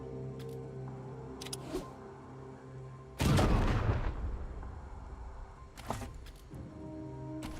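Grenades explode in the video game Wasteland 3: one loud, booming, rumbling blast and a second, weaker burst, set against quieter game background tones and scattered lighter impacts.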